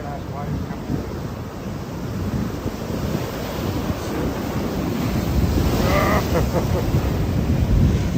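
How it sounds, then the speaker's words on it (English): Big ocean waves on a rough day at the rocks of Kurnell, Sydney, surge and break in a constant heavy roar, buffeted by wind noise on the microphone. "Big ass waves coming"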